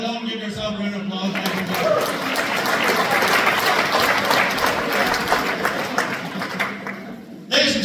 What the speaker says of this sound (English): Well done, give yourself a round of applause.